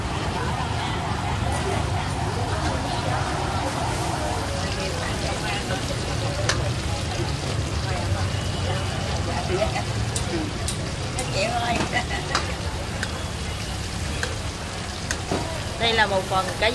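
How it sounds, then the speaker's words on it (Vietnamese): Fish balls frying in hot oil, some tossed with garlic fish sauce, give a steady, close sizzle with occasional crackles and stirring clinks, while people talk in the background throughout. "Cái này là mình chiên dầu bình thường, còn bên đây sẽ là chiên móng tỏi"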